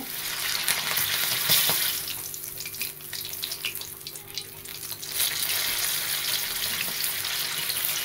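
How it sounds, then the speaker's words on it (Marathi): Slit green chillies fry in hot oil, giving off a steady, close sizzle and crackle that surges and softens briefly midway, with no talking. "मस्त तळले मिरची"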